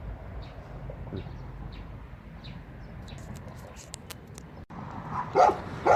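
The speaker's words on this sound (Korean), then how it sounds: "우리 멍멍이가 또 환영을 해줍니다" A dog in a rural Korean village near Soyosan gives a few scattered, mid-distance barks over outdoor ambience, followed by louder yips and rustling close by toward the end.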